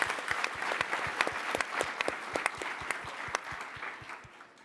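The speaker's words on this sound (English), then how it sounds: "Give Alex a round of applause" An audience at a startup pitch competition claps steadily for several seconds, a dense patter of hands that slowly thins out toward the end.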